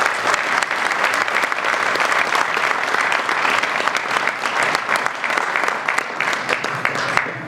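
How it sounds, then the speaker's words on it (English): Loud, dense applause from a large crowd at a boxing press conference in Las Vegas fills the whole stretch, steady and sustained without letting up. "please, a big applause"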